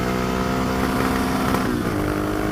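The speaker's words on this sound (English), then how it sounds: "oh, that was the rev limiter" A dirt bike engine revs hard and loud up close, its steady roar briefly stuttering as it hits the rev limiter before settling back.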